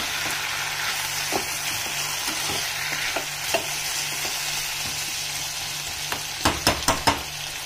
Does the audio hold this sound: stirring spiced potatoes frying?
yes